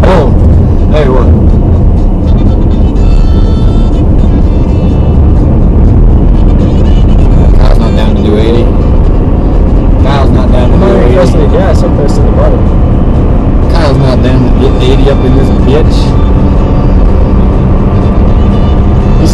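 A car speeds along a road at high speed, the engine and wind roar loud and constant throughout, with no voices audible.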